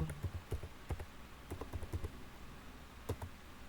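Typing a command on a computer keyboard, a burst of distinct key clicks in an uneven rhythm, close and clear, with a short pause before a final few keystrokes.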